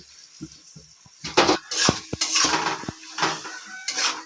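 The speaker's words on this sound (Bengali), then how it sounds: "মিক্সির বাটিটা ধুয়ে অল্প একটু জল দিয়ে দিচ্ছি" A steel mixer jar being rinsed in a kitchen while cooking prawn curry, giving irregular clinks and knocks of metal with splashing water, fairly close, with no talk.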